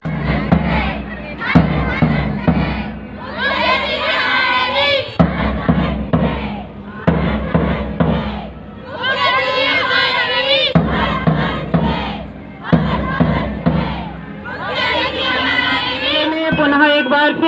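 A large crowd at a school drawing competition and award event in India roars in repeated bursts of loud cheering and chanting, with massed voices shouting in unison, pausing briefly between swells.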